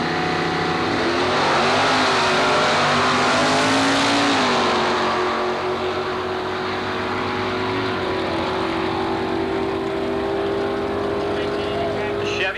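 A big-block 1955 Chevy and a 427 Ford Ranchero roar off the line at an antique drag race at Carlsbad Raceway, loud engines howling and fading down the strip while an announcer talks over them.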